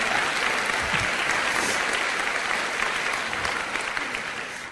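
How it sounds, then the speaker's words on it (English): Sustained round of applause from a crowd at an anniversary gathering, steady and dense throughout, slowly tapering toward the end with no talk over it. "what can I say that you put up with all of the aforementioned men should get you a round of applause"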